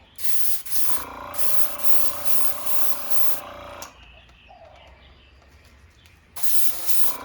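An airbrush sprays a final clear coat in sustained hissing bursts: a long spray, a quieter stretch of softer hiss, then another burst at the end, with no talking.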